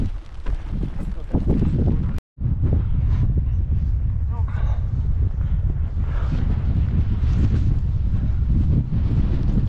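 Steady wind buffets the microphone at an outdoor duck hunting spot where decoys are set out, a loud, continuous low rumble that drops out briefly for a moment before resuming.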